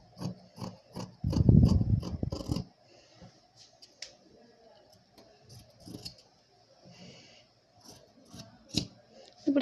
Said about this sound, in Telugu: ఇప్పుడు స్ట్రైట్గా కటింగ్ అనేది చేస్తే సరిపోతుంది ఎక్స్ట్రా క్లాత్కి.